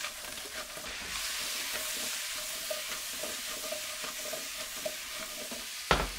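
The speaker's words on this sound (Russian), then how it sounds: "И карамелизую яблоки." Apples caramelizing in a pan set to 200 degrees, a bright continuous sizzle heard close, with occasional soft stirring scrapes and one louder knock near the end.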